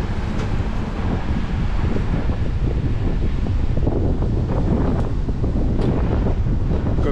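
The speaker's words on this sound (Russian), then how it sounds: "Капец, ветер." Strong wind buffets a microphone steadily throughout while riding a route near the Black Sea coast in Sochi in December, a loud, continuous low rumble with gusty fluctuations and no speech.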